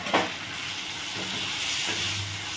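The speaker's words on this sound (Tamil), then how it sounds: "தக்காளியும் வந்து நல்லா வதங்கட்டும்" Tomatoes sauté in a pan for Kerala-style fish curry with a steady hissing sizzle and a brief stirring scrape near the start; close and moderate in level, no talking.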